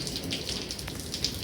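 Steady rain pattering down outdoors, an even wash of drops with a few sharper close splashes, continuous and moderately loud with no voices.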